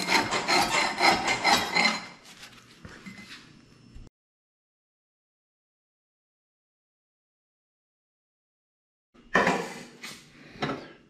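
A scraper rasps at hardened Gorilla Glue squeeze-out in a dense run of short strokes, then the sound cuts to silence before a second burst of scraping starts near the end, close and loud with no talk.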